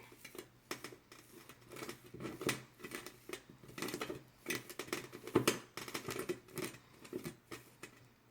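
Repeated crisp snipping of scissors, a steady run of close, quiet cuts with small rustles of material between them.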